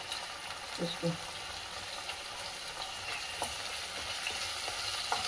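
Vegetables frying in a pan with chili and garlic paste for homemade veg fried rice, a soft continuous sizzle with a few faint stirring scrapes, low in level.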